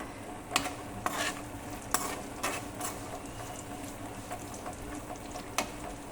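Peanuts frying slowly in oil in a pan for pulihora, a steady soft sizzle with occasional clicks and scrapes of a spoon stirring, close and without talk.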